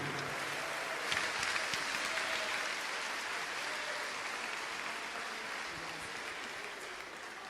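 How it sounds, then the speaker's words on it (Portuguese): Church congregation giving a round of applause for Jesus, a soft, continuous wash of clapping heard from a distance, faint and even throughout. "dê uma salva de palmas bem forte para o Senhor Jesus"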